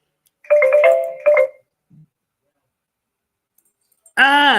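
A phone ringtone for an incoming call sounds twice as short melodic bursts, with a brief click after them. Near the end a louder tonal chime follows, close and clear, with no talk over it.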